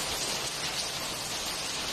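Heavy rain in Oman pours down in a dense, constant hiss, loud and unbroken throughout with no voices.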